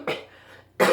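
One person coughs twice, short and close, a sharp burst at the start and a second one just under a second later, with a quiet pause between.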